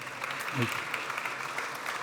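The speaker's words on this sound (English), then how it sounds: "Let's have a round of applause for our panel here" Applause for a panel at the close of a business discussion on e-bikes: a continuous, moderately faint wash of crowd clapping with a brief voice in the middle.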